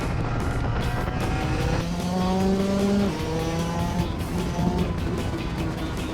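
Shifter kart engine in Singapore, racing on Asia's largest kart track and capable of 82 mph, with a loud, steady, high-revving buzz that rises and falls in pitch through gear changes.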